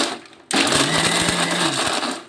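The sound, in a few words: mixer grinder grinding coconut pieces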